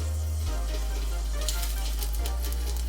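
Oil heating in a pan on a stove, crackling and sizzling softly over a low steady hum, with scattered louder pops toward the end.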